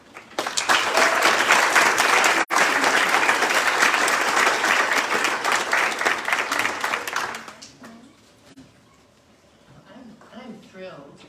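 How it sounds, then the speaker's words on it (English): An awards night audience applauds in a loud, dense burst of clapping that runs for several seconds, then dies away into murmurs and scattered claps. "Please give a round of applause to Mary and RBC."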